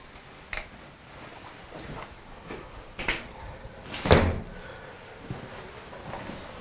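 A weather-stripped door is opened and closed, giving a few soft scrapes and muted thumps, with one firmer knock near the middle against a quiet room.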